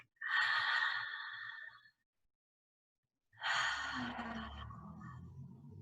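Two long breaths through the mouth, close and fairly loud: a breathy inhale lasting almost two seconds, a pause of silence, then a second airy breath with a low hum beneath it, set within a guided relaxation exercise.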